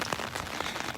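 Rain comes down over a Seattle ballpark as a dense, even patter of drops on hard surfaces. It stays fairly faint and continuous with no voices.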